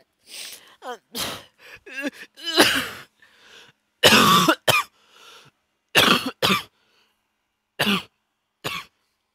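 A man's harsh coughing fit while playing a video game, a series of loud, ragged coughs with throat clearing and gasps, coming in uneven bursts with short pauses between them.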